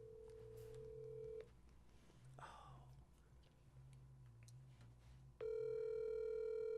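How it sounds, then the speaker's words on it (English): A telephone call is placed: a steady dial tone hums, drops out for some soft handling sounds and brief dialing beeps, then a loud tone returns near the end, all fairly quiet with no clear talking. "while he's trying to dial up"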